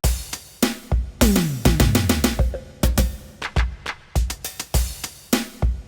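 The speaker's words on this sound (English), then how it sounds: "That was just a quick clip of a drum kit that I built myself in FAC Drumkit" Custom-built drum kit from imported samples in the FAC Drumkit app plays a short groove: punchy kicks, snappy snares and a quick descending tom fill, loud and close with no voices, beats landing in a lively, syncopated rhythm.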